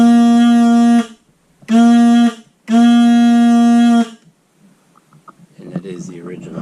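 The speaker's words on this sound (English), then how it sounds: "And that is the original horn." Original horn on a 1960 Dorsett Catalina boat gives three loud, steady blasts, the first and third longer, followed by faint talk.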